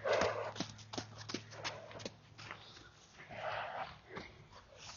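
During groundwork training, a horse shifts and turns close by, giving soft hoof thuds, shuffling steps and occasional snorting breaths in a continuous, uneven rhythm.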